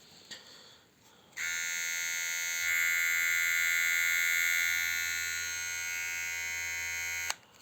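A Goldmaster GM 8126 Fit electric hair and beard trimmer buzzes steadily for several seconds with a high whine, rising slightly midway, then clicks off abruptly.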